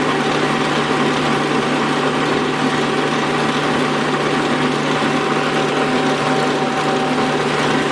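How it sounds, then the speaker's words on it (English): A lathe cutter taking light cuts on a very hard Willys transfer case intermediate gear, giving a loud, steady machine drone with a constant whining tone throughout and no voices. "The cutter is cutting real well"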